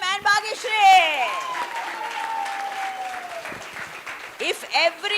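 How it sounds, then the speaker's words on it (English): An audience at a conference applauds and cheers for two people, with clapping running under loud voices on stage. "Three cheers, clap for him and Bhageshri."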